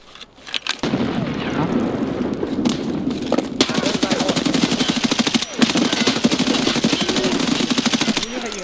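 Sustained automatic gunfire in Escape From Tarkov, a loud, close, rapid stream of shots running for several seconds after a few opening bursts, with brief pauses.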